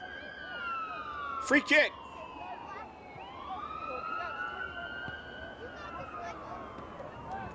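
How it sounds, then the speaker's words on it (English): Ambulance siren passing by a youth girls' under-14 soccer match, its wailing tones sweeping up and down and bending in pitch as the vehicle goes past, with a brief whistle-like burst and a game commentator talking over it. "You saw the ambulance going by and heard it as well."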